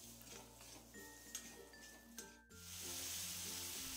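Capsicum frying in a pan with turmeric and coriander powder, a soft sizzle that swells into a steady, louder hiss partway through, heard over a low continuous hum and faint tonal background sounds.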